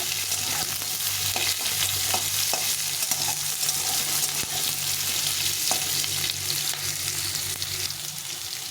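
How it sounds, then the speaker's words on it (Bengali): Potato pieces fry in hot oil in a pan for a mixed vegetable dish, with a constant dense sizzle and scattered scraping and clinking as they are stirred, close and steady throughout, with no talk. "প্রথমে আলুটা দেবো একটু আলুটা একটু ভেজে ভেজে নেব"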